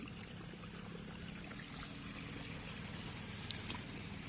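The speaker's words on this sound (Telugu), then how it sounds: "వాటర్ ఎంత బాగా వెళ్తున్నాయో" Water rushes steadily through damaged, recycled pipes used for watering plants, a constant trickling wash with no talking.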